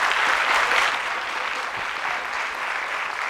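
Warm applause for a guest on a café talk show, a full crowd clapping steadily, loudest at first and then settling into a slightly softer, even patter, with no one speaking.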